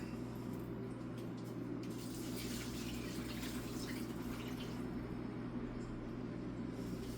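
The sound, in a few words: water pouring into a measuring cup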